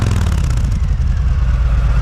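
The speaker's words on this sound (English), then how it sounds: "The exhaust isn't loud, but it is pleasant, with a deep," Deep, steady exhaust rumble from a Harley-Davidson motorcycle, a Low Rider or Sport Glide, running at a low, even pace with a rich tone, loud and close, with no talk over it.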